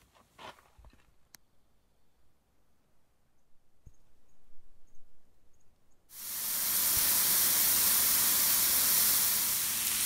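Half a pound of sausage hits a hot pan during cooking in a van: a few quiet clicks and rustles, then a sudden loud, steady sizzle that continues to the end.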